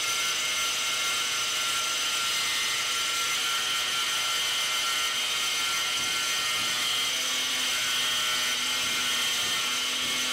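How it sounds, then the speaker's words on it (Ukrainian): A cutting disc on a Mechanic Slider 45 Pro tile saw slices through tile with a continuous high-pitched grinding whine, steady and close throughout with no talk. "притискати спереду та скуту і проштовхувати його потихеньку вперед, поскільки ріже диск"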